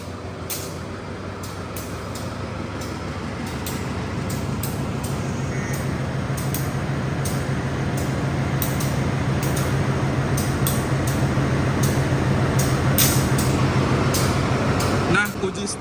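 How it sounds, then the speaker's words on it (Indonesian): Train locomotive during a static brake test, pulling against its brakes, giving a steady low diesel drone that slowly builds, with brief hissing bursts of air brakes. "lokomotif mengeluarkan daya tarik dan juga melakukan pengereman"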